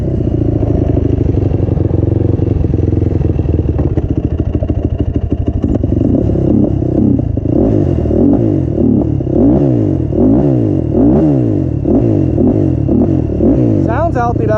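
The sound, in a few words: Yamaha YFZ450 ATV engine running and revving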